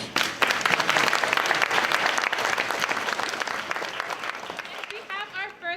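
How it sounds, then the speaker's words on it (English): Audience at a Brooklyn school concert applauding performing students, a dense burst of clapping that gradually thins out, with a voice starting to speak near the end. "Let's give them a round of applause"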